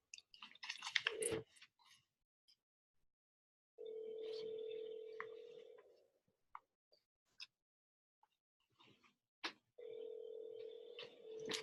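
A telephone rings in an office reception, two sustained electronic ring tones spaced apart, with clicks and brief handling noises between them.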